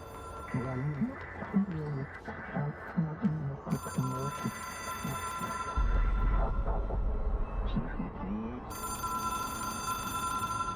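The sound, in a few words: telephone ringing in video game Control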